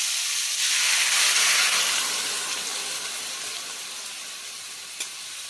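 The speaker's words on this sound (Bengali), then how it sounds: "অল্প একটু নেড়ে চেড়ে নিয়ে এবার দিয়ে দেওয়া হচ্ছে পরিমাণ মতো জল।" Water poured into a hot wok of ridge gourd and potato sets off a loud steamy hiss and sizzle that swells early, then slowly fades, with a single small clink near the end.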